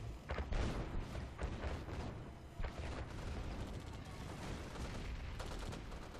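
Dense, continuous battle din from the Yuri's Revenge real-time strategy game, with rapid overlapping tank cannon fire and explosions bursting in clusters, loud and unbroken throughout.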